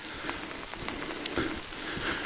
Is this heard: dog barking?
no